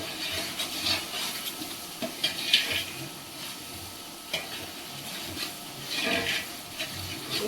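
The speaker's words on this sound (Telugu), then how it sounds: "అడుగంటుకోకుండా కలుపుతూనే ఉండాలి." Onions, green chilli and ginger sizzle and fry in a pan while a spoon stirs them steadily, with scraping strokes and small clatters coming up through the continuous crackle.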